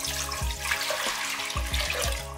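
About a litre of water pours into a pot for boiling beef, a continuous close splashing stream with soft gurgles and a few pulsing glugs.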